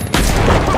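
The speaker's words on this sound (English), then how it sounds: "Fireworks!" Fireworks explode in a video game match as a dense, loud barrage of crackling bursts that begins abruptly after a brief quiet moment and keeps rolling without pause.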